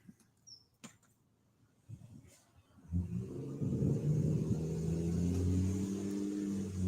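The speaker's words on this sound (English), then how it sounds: "somebody car noisy as shit on this other street over here" A loud car on a nearby street starts up and revs, a deep rumbling engine that swells after a few quiet seconds and then holds a strong, throaty drone.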